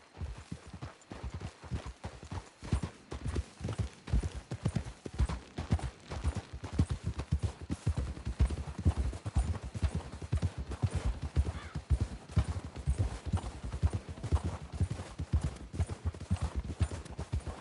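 Horses trotting with steady, overlapping clip-clop hoofbeats in Red Dead Redemption 2, a continuous close rhythm running throughout with no talk over it.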